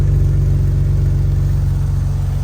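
A Jeep engine runs through a Banks cat-back exhaust of larger diameter than the factory system, giving a steady, deep, loud rumble that holds unbroken, close up and alone.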